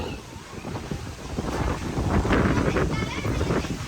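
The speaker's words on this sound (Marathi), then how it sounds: "आता या साईडचा आला वारा बघा" Strong wind of a sudden dust storm buffeting the microphone in a loud, continuous roar that swells in the middle and stays gusty to the end.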